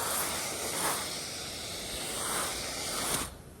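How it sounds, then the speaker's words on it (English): Steady close hiss of roof cleaning chemical being sprayed onto a metal Colorbond roof, continuous for about three seconds with slight surges, then cutting off near the end. "And then what you do is just do a little backup spray"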